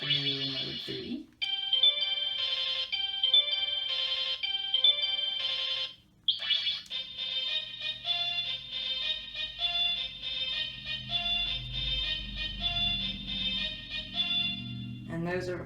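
The Sailor Moon Spiral Heart Moon Rod Proplica toy plays its electronic sound effects in mode 3: bright chiming, twinkling tones in repeated bursts with brief gaps, then a longer sparkling sequence, close and clear.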